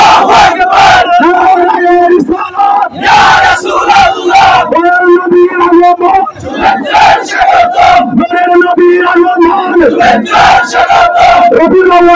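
Protest rally crowd chanting religious slogans in unison, a leader's call answered by massed voices in loud, rhythmic waves that fill the whole stretch.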